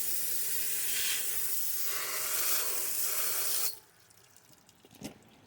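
Degreaser sprays onto a Ford 660 tractor during cleaning, a continuous loud hiss that cuts off abruptly, followed by quieter background and a brief knock.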